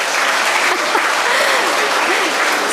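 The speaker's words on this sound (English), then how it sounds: "So the boys are clapping hard" Boys in a school audience at a Navaratri event clap hard, a dense, loud, continuous roar of applause with faint voices rising through it.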